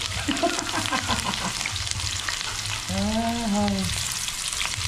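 Eggplant frying in plenty of oil, a dense continuous sizzle close by, with brief voices in the background.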